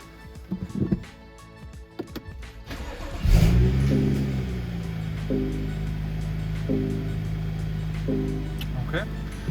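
A BMW 435i fitted with a new air intake starts and revs, its engine note rising sharply then settling into a steady loud drone with periodic revving swells while driving; a person talks briefly at the start.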